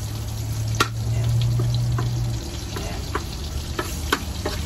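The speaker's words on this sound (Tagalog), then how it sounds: "Tapos ang susunod sa bawang, gawin na natin yung karne para magisa" Meat sizzling in a hot pan just after garlic is sautéed for a home-cooked Filipino dinner, a continuous crackling fry with scattered sharp pops and clinks of utensils, close and without talk.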